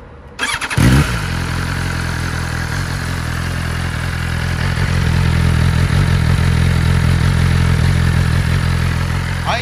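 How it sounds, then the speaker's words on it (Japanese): A BMW S1000RR sport bike fitted with an SC-Project exhaust cranks briefly and fires up, then settles into a loud, steady, close idle that swells slightly partway through, with no talking. "ではエンジンをかけてみようと思います。"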